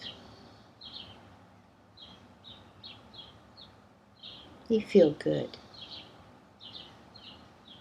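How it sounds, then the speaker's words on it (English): Small birds chirp in short, repeated high calls in the background, sounding fairly faint and spread out, while a calm voice speaks over them. "Birdsong fills the air."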